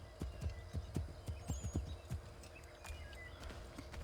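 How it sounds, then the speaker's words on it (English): A horse walks in the video game Assassin's Creed 3, with regular clip-clop hoofbeats in a steady rhythm, fairly clear at first and fading softer toward the end. "I assume that's a horse."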